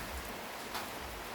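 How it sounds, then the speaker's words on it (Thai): Rain falling steadily outdoors, a soft continuous hiss of drops with no voices, faint and even throughout. "ให้เพื่อนๆฟังเสียงฝนตกไปด้วยนะ"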